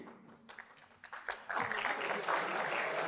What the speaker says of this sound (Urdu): یہ تالیاں بجانا کب بند کریں گے ہم؟